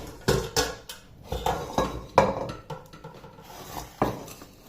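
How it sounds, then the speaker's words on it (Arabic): A cocotte cooking pot being fetched and handled for Ramadan tomato preparation, giving several close, irregular metallic clanks and knocks with short ringing, separated by brief pauses. "غادي نمشيو نجيبوا الكوكوط ونبداو على بركه الله"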